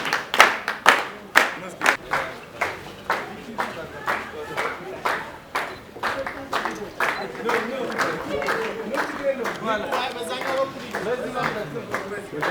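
An audience claps at a car gift ceremony, opening with loud, distinct rhythmic claps that settle into steadier, denser applause, with talk and crowd voices underneath.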